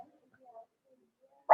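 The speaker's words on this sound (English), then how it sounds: "Sorry for the dog." A single short, loud dog bark bursts out at the very end, after faint murmuring sounds in a quiet indoor room during an online meeting.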